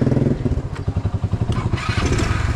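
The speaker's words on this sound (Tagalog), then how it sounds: "Ano na kami, tag-isang motor kami ni Kawildor." A motorcycle engine runs close by with a loud, throbbing low putter, its rhythmic pulses steady throughout and rising slightly near the end, with no voices over it.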